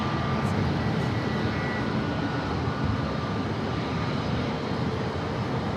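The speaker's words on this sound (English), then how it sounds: "this A321 Neo heading to Dallas, Fort Worth, Texas." An Airbus A321neo airliner taxiing at San Diego airport with its taxi light on makes a steady, loud engine roar and rumble that holds evenly throughout.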